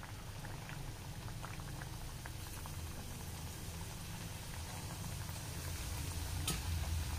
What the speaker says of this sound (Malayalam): ഇനി നമുക്കിതിലേക്ക് ഓരോന്നിട്ട് കൊടുത്ത് ഫ്രൈ ചെയ്തെടുക്കാം.